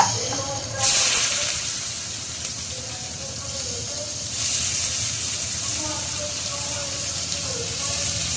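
Sliced onions for a home-style chicken curry hit a hot pan with a sudden loud hiss and sizzle that settles into steady frying, flaring again partway through, with a bright, close texture throughout.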